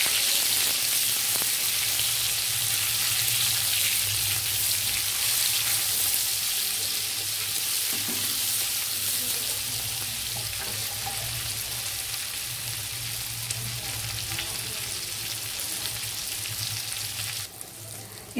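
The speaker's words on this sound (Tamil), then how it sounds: "நம்ம ஸ்டஃப் பண்ணி வச்ச கத்திரிக்காவை போட்டு வதக்கலாம்." Stuffed brinjal sautés in hot oil for a Chettinad gravy, giving a continuous close sizzle with faint crackles that stays steady for a long stretch and eases slightly toward the end, with no talking.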